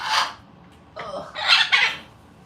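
A pet parrot whining, with several loud, close squawking cries in short bursts, separated by brief pauses.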